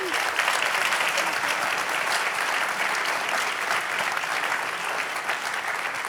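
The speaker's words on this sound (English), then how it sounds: "Let's give a round of applause." Sustained applause from a conference audience at a Space Force discussion session, an even, crowded clapping at moderate volume that carries on without a break from start to finish.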